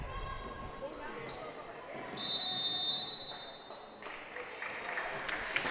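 A referee's whistle blows one sustained, shrill note lasting about a second during a girls' high school basketball game, East Central versus Pine City. The gym crowd murmurs and shoes squeak around it.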